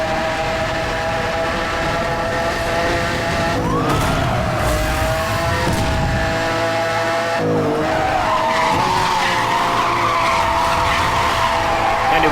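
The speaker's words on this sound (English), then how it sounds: "the Countach has great drifting as well in this game" Lamborghini Countach drifting in the racing game Need for Speed Hot Pursuit Remastered, tires skidding with a steady high squeal over a continuous engine roar that holds loud for the whole stretch.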